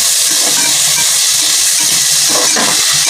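Onion and tomato frying in a pan with cinnamon stick, a loud, steady, close-up sizzle and hiss that stays constant throughout with no talking.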